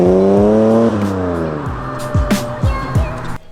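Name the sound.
Ford AU Falcon engine exhaust with Pacemaker extractors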